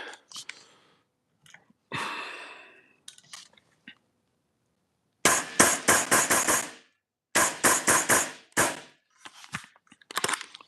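Airsoft gun fed from a Guarder 35-round MWS cut tube magazine fires sharp snapping shots: a few scattered shots, then two rapid strings of close, loud cracks, then a few more shots trailing off.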